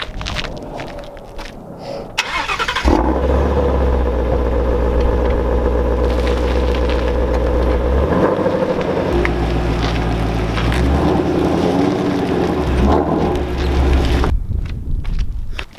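A used Ford Mustang Shelby GT350 starts and rumbles with a deep, steady engine note, held close and loud for several seconds before shutting off, with no talking over it.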